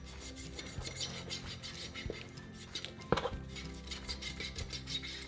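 A kitchen knife works around the joint of a raw whole chicken during butchering, giving soft, irregular scraping and slicing with a few light clinks against the board, fairly quiet and with no talking.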